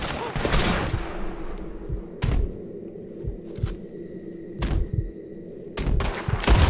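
Gunfire in the Red Dead Redemption 2 epilogue mission, a firefight of sharp shots spaced a second or so apart over a low rumbling background, some shots close and loud, others fainter.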